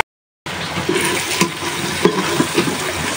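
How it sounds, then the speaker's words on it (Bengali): Beef liver being washed under running water gives a continuous splashing, hissing stream with scattered louder splashes and clatters, steady and close throughout. "তো কলিজাগুলো এখন ধুয়ে পরিষ্কার করে নিই।"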